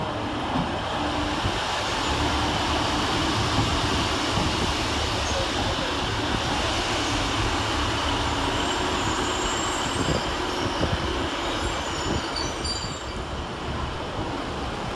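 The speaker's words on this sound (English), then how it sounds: "150-101 and 150-132 arriving to terminate with a northern service from Manchester Piccadilly" Two coupled Class 150 diesel units on a Northern service from Manchester Piccadilly roll into Sheffield station with a steady rumble, squealing wheels and faint rail clatter under the station's reverberant hum.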